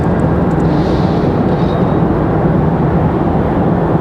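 Republic Airways airliner at Raleigh Durham International Airport, a loud continuous jet engine roar close by with a thick low rumble and a faint whine on top.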